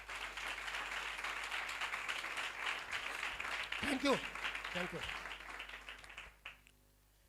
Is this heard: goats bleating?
no